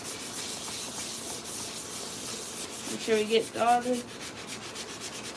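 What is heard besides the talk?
sanding a 3D-printed PLA Iron Man neck piece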